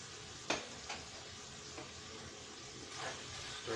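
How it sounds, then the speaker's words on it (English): Chili meat and bacon frying in a pan beside a slow cooker, a soft steady sizzle with a few brief scraping stir sounds, no talking. "the fajita was semi-cooked, I go ahead and throw in the chili meat. The bacon is starting to fry."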